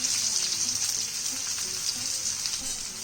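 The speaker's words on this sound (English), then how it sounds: "The first thing in oil is, of course, onions." Onions fry in oil in a tawa with a steady, even sizzle, fairly close and moderately loud throughout, with no talking over it.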